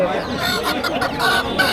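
Chickens clucking among ducks at a large village poultry market in Nakla, a dense close chorus of clucks and squawks over busy market noise.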